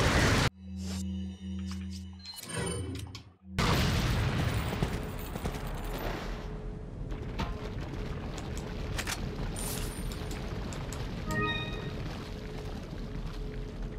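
An incendiary grenade in Resident Evil 4 goes off with a sharp burst at the start, then a long, loud crackling rumble of fire that keeps roaring for several seconds.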